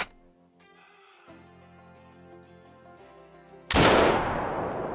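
A single loud gunshot from a 9.3 drilling rifle during a puma hunt in the video game Call of the Wild. It cracks sharply and then tails off over a low, tonal in-game ambience.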